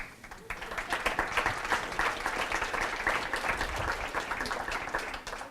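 An audience at the Cardinal Challenge 2015 academic competition claps for the students in sustained, dense applause that holds steady throughout at a moderate distance.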